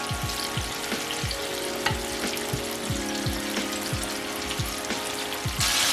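Steady crackling sizzle of salmon tenders deep frying in hot oil, close and continuous, with a regular series of soft bubbling pops.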